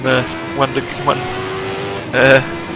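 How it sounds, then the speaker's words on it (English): Cosworth turbo engine of a 1988 CART race car spooling down at a road-course chicane, a steady high whine holding through the middle under engine burble, with commentators talking over it near the start and end. "I'm just currently enjoying the whine from the turbo as it spools down"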